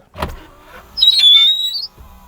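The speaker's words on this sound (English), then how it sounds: "that window sounds like somebody's being murdered" A rally car's power window squeals loudly as it moves, a sustained high-pitched whine lasting almost a second after a dull thump, with no talking.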